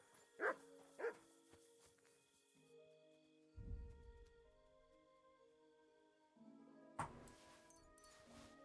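A dog in the Kingdom Come: Deliverance II video game gives two quick barks, then faint whimpering and a brief rustle, set against a quiet musical game soundtrack.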